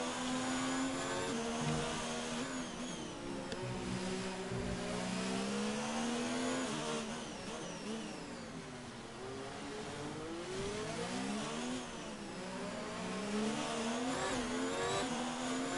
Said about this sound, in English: let's ride along with Cholo here as he warms these tires up and tries to chase Drank down